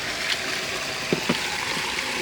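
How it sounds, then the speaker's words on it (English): A small waterfall in a creek gives off a soft, steady trickle and splash, with a few brief louder splashes near the middle. "Look at that little waterfall there"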